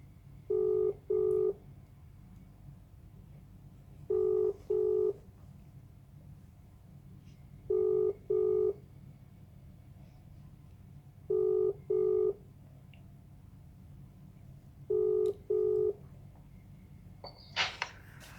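A telephone rings after dialing: five evenly spaced double-ring bursts, each a pair of short electronic tones, sound over a low steady hum, followed by a faint click at the end.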